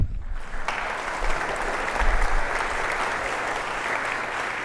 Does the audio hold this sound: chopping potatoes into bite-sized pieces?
no